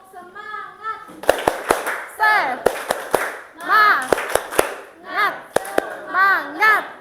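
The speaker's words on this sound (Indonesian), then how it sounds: "terima kasih sudah tepuk semangat ya" A classroom of children performs a rhythmic spirit clap, sharp near clap bursts in quick patterned sets alternating with chanted group voices and a teacher's speech.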